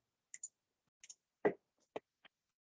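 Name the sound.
mouse clicking through software menus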